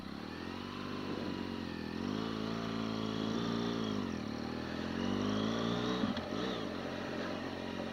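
Motorcycle engine revs under a twist of the throttle and then pulls away, a steady close growl that rises and dips as the bike rides off, with wind noise mixed in.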